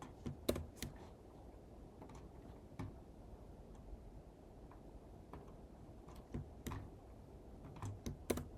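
Computer keyboard keys pressed during After Effects motion graphics work, including a Ctrl+Backspace shortcut: faint, scattered clicks and taps with irregular gaps in a quiet room.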